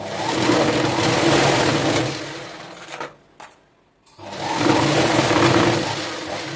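Domestic sewing machine stitching fabric for a child's hat, a fast steady whirring run, a brief pause with a couple of clicks, then another run, close and loud with no talking.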